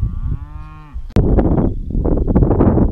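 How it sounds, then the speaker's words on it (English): A cow moos loudly and close by, a long drawn-out low call, followed by a burst of noisy rustling and movement. "Just chilling here with some cows"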